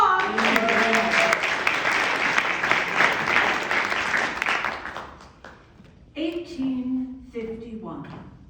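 Applause at a Bloomers Arts Club women's month reading breaks out for several seconds and fades by about five seconds. Voices speaking overlap its opening, and talk resumes clearly once the clapping dies away.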